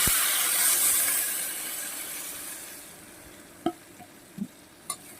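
Water poured into a pan of fried spice masala for a potato and kakrol fish curry, a loud hissing sizzle that fades gradually, followed by a few sharp clinks of utensils.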